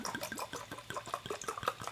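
Wine pours into a glass, a short gurgling, splashing liquid stream heard close and fairly quiet with no talking.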